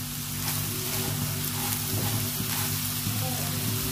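Egg-coated puffed rice frying in hot oil, a steady dense sizzle that holds for the whole stretch, with a low hum underneath and no talk.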